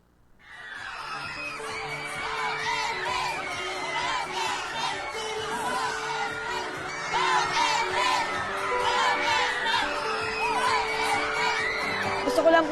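A large crowd at a town gathering in Ragay cheers, whoops and shouts steadily, children's voices and laughter mixed in, swelling louder toward the end.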